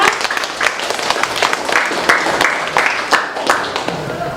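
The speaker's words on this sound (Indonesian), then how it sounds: "kasih aplaus semuanya" Classroom students applaud together in a dense, steady clatter of many hands that lasts throughout, loud and close, with some voices mixed in.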